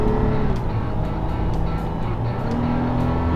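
A freshly built recovery vehicle's engine roars loud and close on its first test drive, a continuous throaty rumble that rises and falls slightly as it revs, with no talking.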